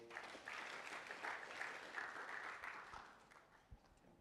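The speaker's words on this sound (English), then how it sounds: "Shall we clap for him?" A room full of people at a university orientation for new students applauds steadily for several seconds, the clapping gradually thinning and fading toward the end.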